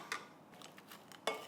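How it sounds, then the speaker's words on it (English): Spoon clinking and scraping in a bowl while vegetable broth is stirred into a stuffing mixture, a few quiet close taps over about a second and a half. "I'm just going to give that a quick stir through"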